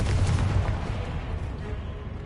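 Confringo fire spell exploding in the video game Hogwarts Legacy, a deep booming blast at the start that rumbles and decays quickly into a fading tail.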